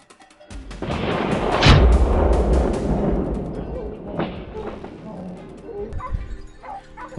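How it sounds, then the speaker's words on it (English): A hunting rifle gunshot during a wild boar hunt, one loud close blast with a booming tail, followed by a dog barking and yelping amid outdoor noise. "A single well-aimed shot hit its mark."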